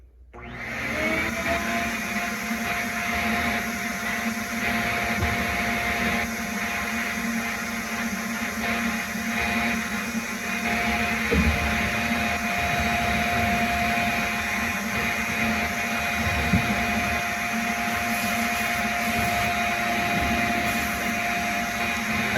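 Sandblasting a wine glass with a pressure pot blaster, a loud constant hissing roar of air and abrasive close by, running steadily and unbroken for over twenty seconds.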